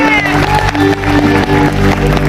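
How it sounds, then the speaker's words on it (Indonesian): A studio crowd at a live Indonesian talk show claps and cheers loudly and without a break, over music and voices that can be heard underneath. "Terima kasih banyak untuk Ashel dan Adel, tepuk tangan sekali lagi."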